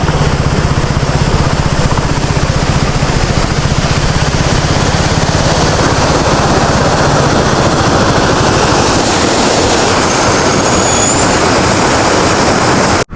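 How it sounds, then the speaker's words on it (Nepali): Loud, steady broadband roar of rushing waterfalls, continuous and close, with no speech. "कति धेरै झर्ना"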